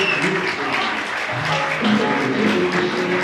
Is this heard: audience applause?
yes